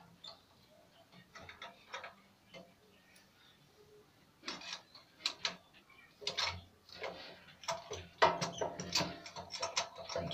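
Spark plug spanner turned with a screwdriver through its hole to loosen a generator's spark plug gives close, repeated ratcheting clicks and metallic ticks that grow busier and louder toward the end, with no talk.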